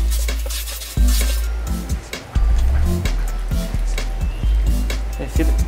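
Flour being stirred into a seasoned chicken a la king coating mixture with pepper and paprika, spoon scraping and clinking against a bowl in irregular strokes, with a voice talking over it.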